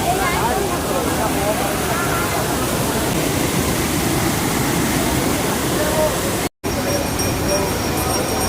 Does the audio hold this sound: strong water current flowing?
yes